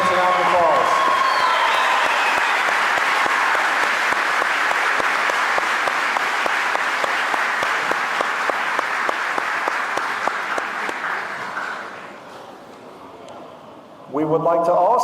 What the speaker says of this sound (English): Give our parents a round of applause.